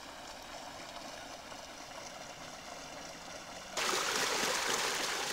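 Water runs over a field access road, where frozen culvert pipes force it across the surface, and turns a small water wheel. A steady, close rushing flow grows noticeably louder and brighter partway through.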